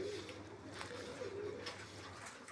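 Pigeons coo softly in a low, rolling murmur that is faint and continuous, with a few light rustles and taps mixed in.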